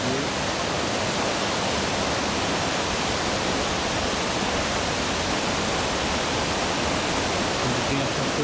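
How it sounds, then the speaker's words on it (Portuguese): Water from a small forest waterfall rushes in a steady, dense hiss, loud and unbroken throughout with no other sounds standing out. "Aqui é aquela cachoeirinha que a gente viu de frente."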